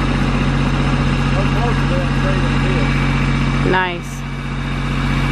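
A tractor engine idles and rumbles steadily up close while pushing a homemade chicken coop, a voice speaking briefly over it near the end.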